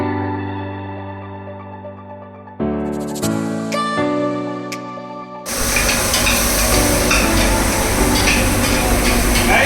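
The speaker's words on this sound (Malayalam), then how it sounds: "ഉള്ളി, തക്കാളി, ഇഞ്ചി ഇതൊക്കെ വറുകൊണ്ടിരിക്കുകയാണ്" Onion, tomato and ginger frying in a hot pan for chicken curry: a loud, steady sizzle that suddenly swells to a dense, continuous crackle after an earlier stretch of music-like tones.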